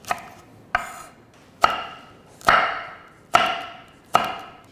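Knife chopping green onion and chili peppers on a board: six sharp, separate cuts spaced about a second apart, each a crisp clack with a short ringing tail, close and alone.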